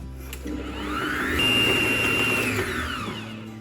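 An electric mixer whirs through cookie dough made with browned butter and chocolate chips, its motor rising to a steady loud whine in the middle before easing back down.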